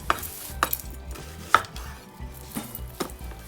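A knife dices peppers on a cutting board, sharp chops at an irregular pace roughly every half second, close and clear, with light kitchen clatter and no voices.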